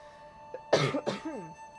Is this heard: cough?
yes